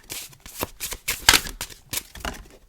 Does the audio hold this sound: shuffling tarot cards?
yes